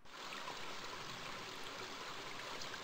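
Rushing river water in the King's Quest V game, a steady broadband hiss of flowing water, continuous and moderately loud with no voices.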